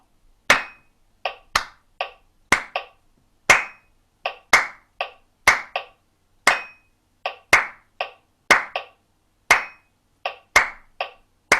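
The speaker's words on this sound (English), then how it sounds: "I'm just going to clap that rhythm of that first bar." Hands clap a one-bar rhythm in a quiet room during a music warm-up session, sharp close claps in a repeating pattern with short gaps, heard alone without talk.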